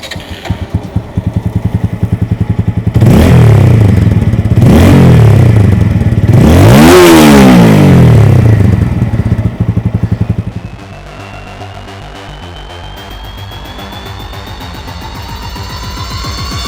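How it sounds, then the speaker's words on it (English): A TVS Apache RTR 200 motorcycle with a double-barrel exhaust revs hard three times in a row, each blip a deep throaty rise and fall, then settles back to a low, steady idle. "this double barrel exhaust has a deep throaty note which produces a sound like this"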